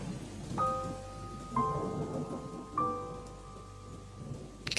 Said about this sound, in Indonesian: Kenapa sampai larut malam gini hujan gak berhenti-berhenti ya?